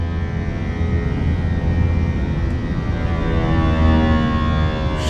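Airbus A320 jet engines spooling up to climb thrust in the Fenix A320 flight simulator, a loud, steady broadband roar with faint rising tonal whines, continuous throughout with no talking.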